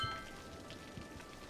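Steady rain from the Cities: Skylines city-building game, a soft continuous hiss of drops on surfaces with faint low rumbles underneath, evenly sustained and without any voices.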